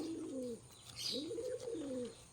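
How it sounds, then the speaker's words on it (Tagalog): Two soft, low pigeon coos, each a rising then falling warble, close by with a brief pause between them and light background hiss. "Parang gutom na yung mga kalapati ko bi oh."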